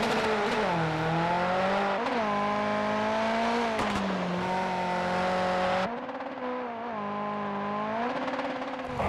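Loud, close engine revving from an RS200 Group B rally car on the Wildcrest rallycross course in Project CARS 2. The pitch repeatedly climbs and drops through gear changes, then a sharp cut leads into a slightly quieter stretch.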